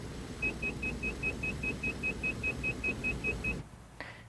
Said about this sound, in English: Now, what you were hearing there was a stall warning system.